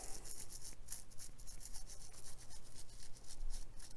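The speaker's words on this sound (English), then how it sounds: "Just a gentle scrub. I'm scrubbing gently, by the way." Paint stripper being scrubbed gently off a painted surface with a brush, giving a steady, close, soft rasping rub that repeats in quick strokes throughout, with no talking.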